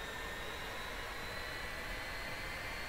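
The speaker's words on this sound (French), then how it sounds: "le L-39 est un avion d'entraînement de fabrication tchécoslovaque" Steady roar of an L-39 jet trainer's turbofan engine, a light Czechoslovak-built aircraft, running in the DCS flight simulator; a continuous, even whine and rush with no talk over it.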